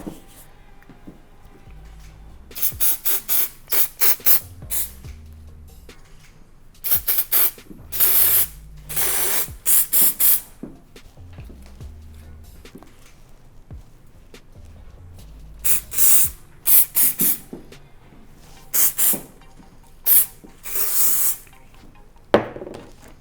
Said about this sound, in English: I'm just going to go in and use some texturizing spray